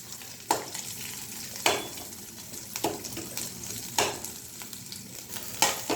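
Raw onions for brinjal curry sizzle in a pan, with about six sharp stirring scrapes at regular intervals over a constant frying hiss.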